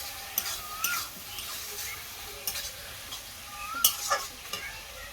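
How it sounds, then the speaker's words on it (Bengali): Chicken curry masala stirred in a pan on a village stove, faint sizzling under intermittent spoon scrapes and clicks, fairly quiet and close. "ভালো করে নেড়ে চেড়ে দেবো।"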